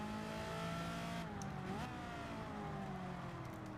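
A race car engine in the Gran Turismo 7 video game holds a steady, fairly faint drone, then its pitch drops and climbs again as the gears shift. No one talks.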